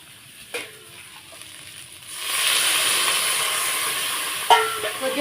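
Water poured into a pan of frying eggplant curry sets off a rising steamy sizzle that holds steady for a few seconds, with a couple of sharp clinks of a utensil against the pan.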